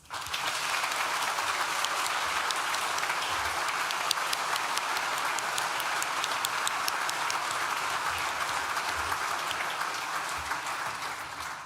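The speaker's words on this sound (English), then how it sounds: "Please join me in thanking them with a well-deserved round of loud applause" Sustained audience applause fills a graduation ceremony hall for Nottingham Law School, a dense, steady wash of many hands clapping at even loudness throughout, with no speech over it.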